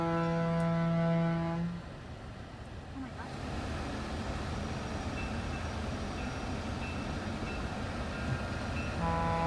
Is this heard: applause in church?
no